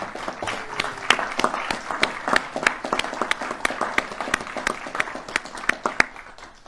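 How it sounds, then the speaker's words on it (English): Scattered, distinct hand claps from a modest crowd at a city address, sharp individual claps that sound fairly close in a steady, uneven patter throughout. "I want you, everybody, to give her a round of applause"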